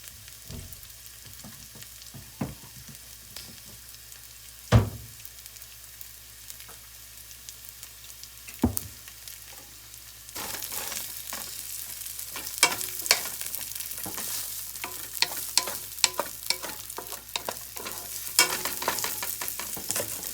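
Leftover onions added to a pan of fried rice: a near-silent start with a few sharp clicks, then a steady, moderately loud sizzle with crackles and spatula taps for the second half.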